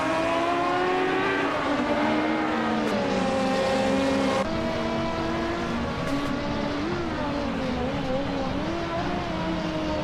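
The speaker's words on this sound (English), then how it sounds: "The Group 5 cars are showcasing intense close racing, thanks to the balanced handling and high power." Group 5 race cars lapping Brands Hatch GP, several engines droning loudly together with rising and falling pitch as they shift and pass, steady and close for the whole stretch.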